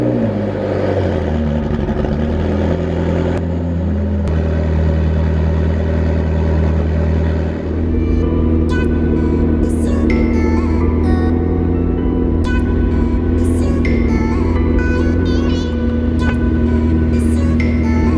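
A Ferrari engine cold-starts and settles into a loud, steady idle, with a deep continuous rumble and a faint higher mechanical whine layered on top.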